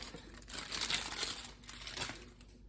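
Something is peeled off in a kitchen while making homemade marshmallows, a close crinkling, papery rustle in two uneven bursts, with no voices.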